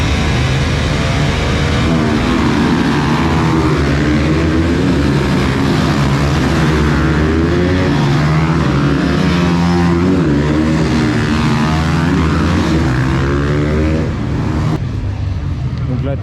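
Supermoto motorcycles circle a race track on their warm-up lap, a loud, continuous engine drone whose pitch rises and falls as the bikes accelerate and ease off, with no break in the noise.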